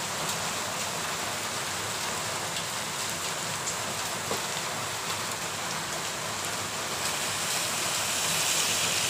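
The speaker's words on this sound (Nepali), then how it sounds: "पानी परेको आवाज पनि आइरहेको होला" Steady heavy rain pouring outside, a dense continuous hiss of drops on surfaces that holds level throughout and swells slightly near the end, with no voices.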